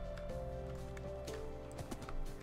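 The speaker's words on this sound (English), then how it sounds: "you press forward, the horse moves." A horse's hooves clip-clop as it moves in the video game Minecraft, a light run of soft footfalls under game tones and background hum, fairly quiet throughout.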